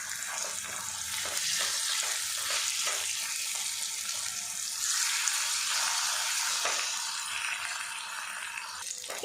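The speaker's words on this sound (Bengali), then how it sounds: "এবার বন্ধুরা বেসনের বাটি ভাপাগুলো উল্টে পাল্টে ফ্রাই করে নেব" Besan bowls frying in shallow oil in a pan: a constant, close hiss and sizzle with a few soft stirring knocks early on, steady throughout and free of speech.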